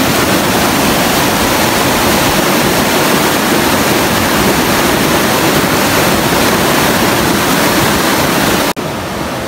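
A river in Bicol province rushing steadily, a loud, dense, unbroken wash of flowing water close by that cuts off abruptly near the end.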